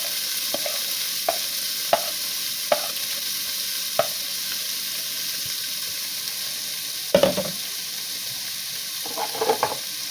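Vegetables sautéing in canola oil in a pan for chicken and dumpling soup, with a steady low sizzle and a few sharp clicks of a utensil against the pan, then a louder burst of stirring near the end.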